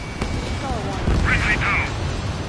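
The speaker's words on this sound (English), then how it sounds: "Missile launched." A missile launches and explodes in the combat flight game Ace Combat 7: a sharp crack, then a loud rumbling blast with a whooshing roar over steady background noise.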